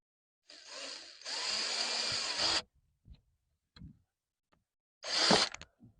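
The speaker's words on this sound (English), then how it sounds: "I'm going to try these 1 1/4 inch trim screws" A power drill drives 1 1/4 inch trim screws into wood for a raised flower bed, two whirring runs of about one and two seconds, then light taps and a final short burst, close and clear.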